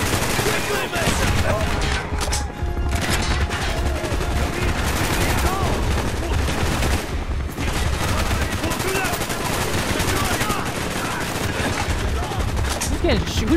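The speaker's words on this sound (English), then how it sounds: "Who's shooting me from behind, bro?" Gunfire in Call of Duty: Black Ops, during the Vorkuta prison escape mission: dense, continuous automatic fire and scattered shots roll on without a break, loud and close, mixed with battle noise, shouted voices and a helicopter.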